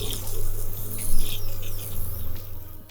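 Crispy pork belly crackling fresh from the oven, a close, steady sizzle with dense popping and spitting and no voices over it.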